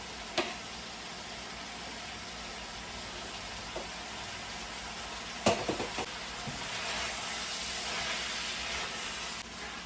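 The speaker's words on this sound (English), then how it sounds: "Now I'm going to start adding my rice." Cooked rice goes into a hot pan for vegetable fried rice: a steady broad sizzle and hiss throughout, with a few soft knocks and scrapes as the rice is added.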